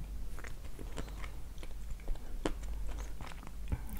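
Close, quiet crunching and chewing of a dense piece of Kyrgyz food that cracks at first and then softens, with scattered irregular bites and mouth sounds over a low steady background hum.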